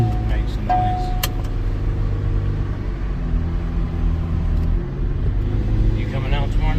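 A 1000-horsepower McLaren sports car engine idles while warming up, a deep steady rumble, nearby and fairly loud, with brief mechanical whines and a voice speaking near the end.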